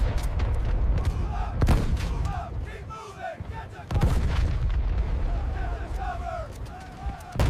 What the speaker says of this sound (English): The sand erupts under shells and mortar fire, smoke curling into the pale sky.